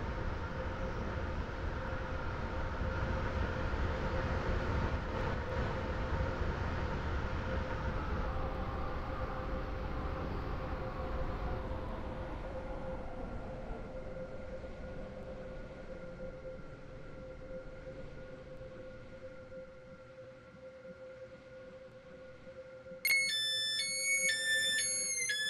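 A Class 801 train in a video game idles at a platform with a steady low rumble and hum that gradually quiets, then a bright electronic chime sounds near the end.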